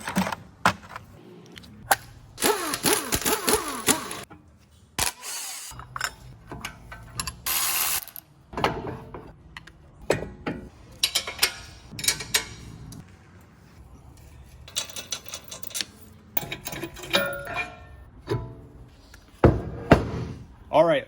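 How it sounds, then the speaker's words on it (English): A faulty brake rotor, its hat loose from the disc, gives repeated metallic rattles and clanks in irregular bursts up close as it is handled, with someone talking between them. "I've never seen a brake rotor cause a rattle like this before."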